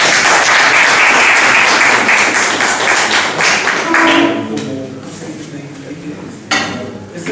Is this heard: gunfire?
no